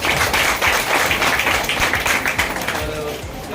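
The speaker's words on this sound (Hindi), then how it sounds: "तो मैडम मेरे जोरदार ताली होनी चाहिए।" A motivational seminar audience claps loudly in a dense, steady burst that continues throughout, with a voice speaking over it.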